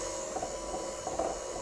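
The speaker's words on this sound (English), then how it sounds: "when using a mixer like this, the entire time you're using it" An electric hand mixer whirs steadily while beating marshmallow fluff filling with confectioner's sugar and vanilla for frog macarons. The motor holds a continuous mechanical drone with a faint ratcheting texture and no talk.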